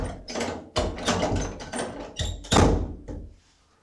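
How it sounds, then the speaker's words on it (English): A door is shut during an indoor paranormal investigation: a series of rattling mechanical clicks and knocks, then a heavy thunk before the sound dies away to quiet. "we've shut the door now, so we can't hear that stupid ticking anymore"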